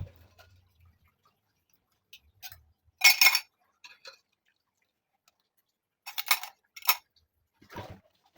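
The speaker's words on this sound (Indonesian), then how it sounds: "langsung mulai untuk cuci piring seperti biasa. Tidak hanya piring, itu ada panci" Scattered clinks and clatters of plates, glasses, pots and spoons being handled and rinsed at a home sink, in short bursts separated by quiet pauses.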